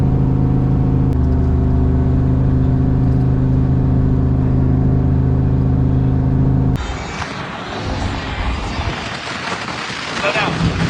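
Turbocharged 5.3-liter V8 car held on a two-step launch limiter, a loud steady droning rumble with stacked engine tones that suddenly breaks into a rougher, broadband roar as it launches near the end.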